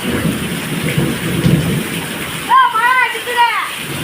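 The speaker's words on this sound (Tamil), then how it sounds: "இன்னைக்கு நிறைய மழை நிறைய இடி" A low, rolling rumble of thunder over steady heavy rainfall in Arakkonam, followed by a person speaking close by.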